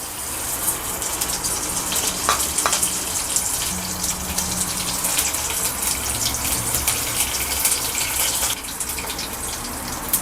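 Mustard seeds, cumin and curry leaves crackle and sizzle in hot oil in a pan for home-style brinjal rice, a loud steady frying hiss with no one talking.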